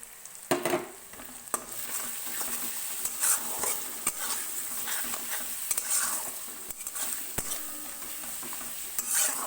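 Spice masala for a Bengali chicken curry stirred and fried in a pan: steady sizzling with scraping spatula strokes and occasional clinks against the pan, close and continuous, no talking.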